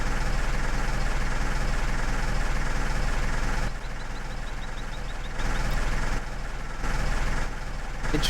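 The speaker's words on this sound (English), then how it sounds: "Interesting, it changes the note of the engine." In Farming Simulator 15, a vehicle engine idles steadily with a low drone, its tone changing audibly partway through as the cab window opens, with faint beeping.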